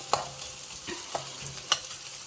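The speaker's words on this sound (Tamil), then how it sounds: "இஞ்சி பூண்டு பேஸ்ட்டு, வெங்காயம் எல்லாம் நல்லா டார்க் ப்ரௌன் வர்ற அளவுக்கு நல்லா வதக்கிக்கலாம்" Onion and ginger-garlic paste sautéing in a pan, a faint steady sizzle broken by a few soft scraping strokes of a spoon, close but quiet, with no voices.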